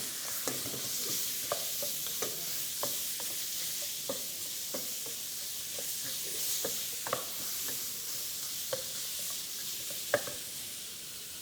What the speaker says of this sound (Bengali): এই জন্য হাই হিটে মিটকে ভেজে নেওয়া হচ্ছে যে কোনো গ্রেভি আইটেম তৈরি করার আগে